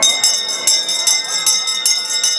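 A bell rings repeatedly in an even rhythm, bright and close, at a St. Martin's Day wine blessing in Mala Nedelja, with no talk over it.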